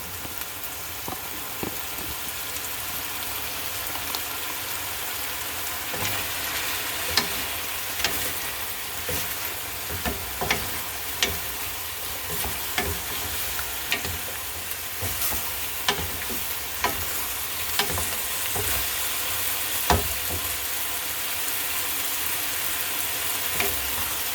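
Chicken and green beans stir-frying on a turbo burner in a steady loud sizzle, broken by frequent clicks and scrapes from stirring in the pan, with no talk.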